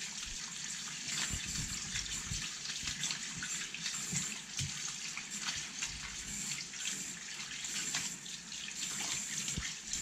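Warm tap water runs in a continuous, fairly quiet gush into a vessel to soak sausage casings while making homemade sausages, with no speech.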